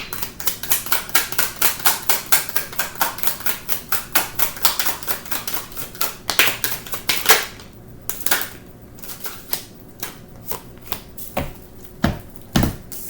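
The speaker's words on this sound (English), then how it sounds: "Give me just a second to pull these cards." Tarot cards shuffled and pulled for a reading: a fast, steady run of crisp flicks and riffles, then slower, irregular snaps as individual cards are drawn, close and fairly quiet.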